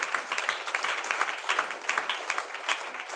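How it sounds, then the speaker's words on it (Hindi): A church congregation at a Sunday meeting claps together in steady rhythmic unison, a dense, loud, continuous patter of many hands keeping a regular beat throughout. "ताली बजाओ।"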